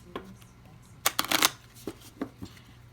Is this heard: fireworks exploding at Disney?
no